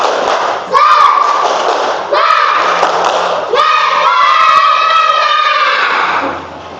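Third-grade schoolchildren in a classroom perform the 'tepuk semangat' clapping chant, loud shouted group voices with bursts of rhythmic claps in three phrases, close and energetic.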